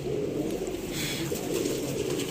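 Golden pigeons in a Sialkot loft give a steady, low, rolling cooing that holds throughout, close and continuous, with no voices over it.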